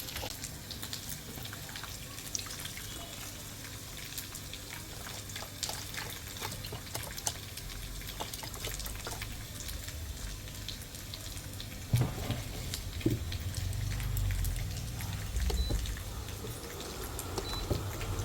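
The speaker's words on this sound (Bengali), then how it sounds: "দুধটা ঢেলে গরম করি" Milk is poured into a cooking pot and set to heat in a home kitchen, giving a continuous wet splashing and trickling wash, near and fairly even, swelling louder toward the end.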